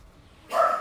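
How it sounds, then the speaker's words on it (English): A dog gives one short, sharp bark after a moment of quiet background. "These dogs. They are funny sometimes."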